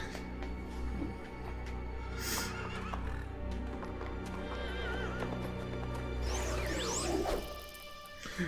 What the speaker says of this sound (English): The horses are scared.